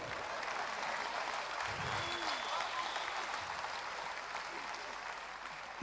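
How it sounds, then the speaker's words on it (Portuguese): Audience applause at a live comedy show in Póvoa de Varzim, a steady, dense wash of clapping from a crowd, fairly distant and even throughout, with a brief low murmur partway through. "Uma salva de palmas para a viola dele."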